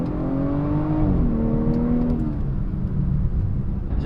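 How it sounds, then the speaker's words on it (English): A BMW F30 340i on the road accelerates, its engine note rising in pitch through a gear change with a steady, loud drone and road rumble throughout. "Now we just got to take it for a drive and see how it does."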